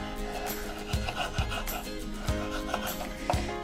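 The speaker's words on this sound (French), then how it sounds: "Comme il reste quand même un peu de pulpe, on va venir la gratter et on coupe les zestes de citron" A knife scraping pulp from lemon peel before cutting zest, close rasping strokes with several sharp knocks on a board spaced unevenly through the clip, no speech.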